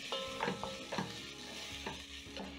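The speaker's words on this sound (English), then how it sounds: "Stir in the salt." Onions frying in a pan as salt is stirred in, with several distinct spoon scrapes over a soft, steady sizzle, close and fairly quiet, no voices.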